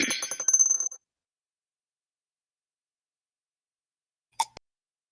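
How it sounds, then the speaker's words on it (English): Dice rolled during a tabletop role-playing game session, a dense rattling clatter of many dice for about a second, then silence and a couple of brief clicks as dice settle later. "I hear so many dice being rolled."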